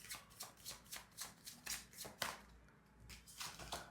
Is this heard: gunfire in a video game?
no